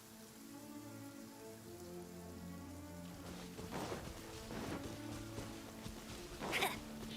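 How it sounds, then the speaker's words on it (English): Steady rain in Genshin Impact patters on surfaces, with soft splashy bursts rising and falling over a quiet bed of low musical tones. "Oh no, it's raining."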